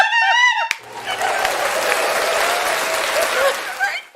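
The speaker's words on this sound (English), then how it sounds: "So Phil, all I can say is clapping for you." An audience claps in a loud, dense burst of applause that carries on for several seconds after a brief moment of speech at the start.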